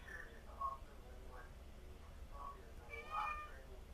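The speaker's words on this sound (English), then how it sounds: "I got a cat in here that's hollering at me" A cat meows repeatedly in a sewing room, several short, fairly faint cries spread across the clip, the last one longer and louder, over a low background hum.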